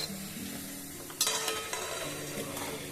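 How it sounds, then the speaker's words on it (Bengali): Kalojam balls made from flour and jaggery frying in oil over a low flame, with a continuous close sizzle and a few sharp stirring clinks partway through. "আমি একটু লো ফ্লেমে একটু সময় নিয়ে এগুলোকে ভেজে নিলাম।"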